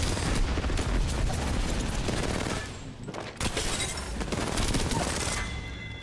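Continuous rapid gunfire in Apex Legends: dense, loud automatic bursts roar almost without pause, break off briefly in the middle, then resume just as heavily.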